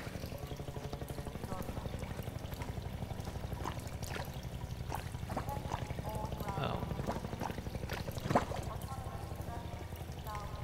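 Water pours and trickles steadily through a sewer in Half-Life 2, a continuous splashing flow heard under a voice talking throughout.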